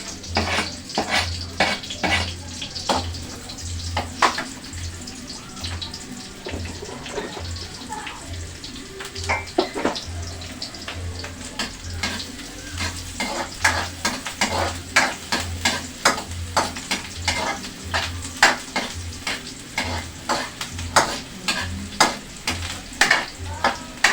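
Garlic and onion frying in a pan for adobong kangkong with pork, a steady sizzle broken by frequent scraping and clinking of a utensil against the pan, close up with almost no talk.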